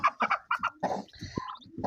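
Short, uneven bursts of clucking, quacking calls come from farmyard poultry as the last duckling is gathered near a mother duck, close and fairly quiet with brief gaps between calls.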